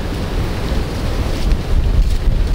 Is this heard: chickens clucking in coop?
no